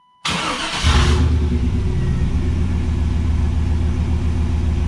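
An OBS-generation truck engine cranks briefly, then catches and settles into a loud, steady rumbling idle close by.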